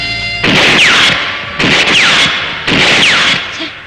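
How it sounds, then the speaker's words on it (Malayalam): Three loud, evenly spaced gunshots from a scene in an old Malayalam film, each a sharp blast with a ringing tail, separated by brief near-silences. "വിഷ്ണുവിനെ മേഡം വെടിവെക്കാൻ പഠിപ്പിക്കുക"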